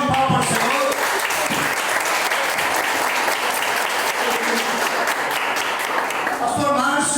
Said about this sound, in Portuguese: A salva de palmas para o Senhor.